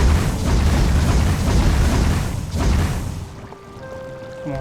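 In the Valheim video game, fuel is added to a fire, giving a loud, dense rushing roar that swells and then fades, followed by soft tonal game chimes near the end, with no speech.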